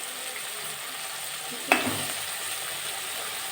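Vegetable fried rice stir-fries in a pan as garam masala is added, a low, steady sizzle broken by one sharp clink of a spoon or spatula against the pan.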